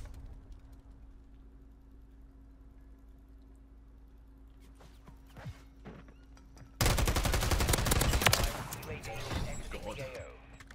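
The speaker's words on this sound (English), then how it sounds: "Shooting through rails on this game, you get no aim assist." Dense automatic gunfire from Modern Warfare 3 on the Vista map erupts loud and close after a quiet stretch with scattered shots, rattling continuously for about two seconds before trailing off, with someone talking in the clip.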